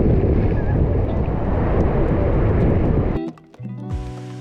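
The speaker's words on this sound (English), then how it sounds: "we're at the bottom of Kelep waterfall" Kelep waterfall in northern Lombok, Indonesia, roars as a loud, steady broadband rush of falling water for about three seconds, then cuts off abruptly and gives way to brief tonal sounds.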